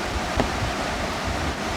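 Flowing water at Girimsa temple in Gyeongju makes a steady, broad rushing hiss, even and unbroken with a faint gusty texture, heard alone without any voices.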